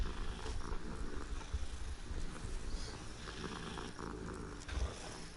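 A cat in the video game Hogwarts Legacy purrs softly up close, a low rhythmic rumble that repeats steadily and fairly quietly, with no talking.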